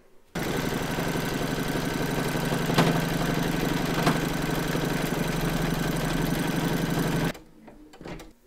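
An embroidery sewing machine stitches a decorative round along the join of a quilt block in silver thread, running as a loud, steady mechanical whir with rapid rhythmic needle clatter that starts abruptly and stops after about seven seconds.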